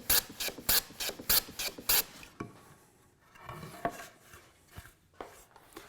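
A hand plane shoots a bevel on wooden bookcase sides: a quick run of loud, rasping strokes in a steady rhythm, then quieter scraping and handling of the tool and boards.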